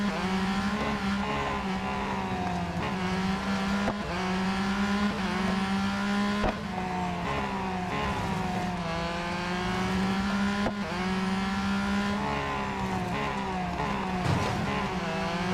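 Race cars in the Real Racing 3 video game drone continuously, their engines revving up and down through gear changes as they drive and overtake. Occasional tire skids cut through the steady, loud engine sound.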